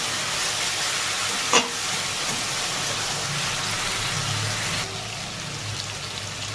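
Ginger paste and grated tomato sauté in a pan for a prawn and pointed gourd dish, giving a steady close hiss of frying with one sharp clink early on; the sizzle softens slightly partway through. No one talks.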